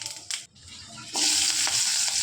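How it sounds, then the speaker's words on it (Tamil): A sudden burst of frying sizzle as fennel seeds and onion hit hot oil in a clay pot, rising to a steady loud crackle after a brief stirring scrape. "தாளிக்கிறதுக்கு பார்த்திங்கன்னா வெறும் சோம்பும் வெங்காயம் தான்"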